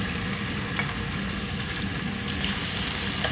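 Teriyaki salmon pieces sizzle loudly in a stir fry pan with ginger and vegetables, a dense, continuous hiss close up with faint scraping and no voices.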